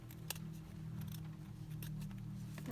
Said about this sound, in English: at the back, just going to trim that off there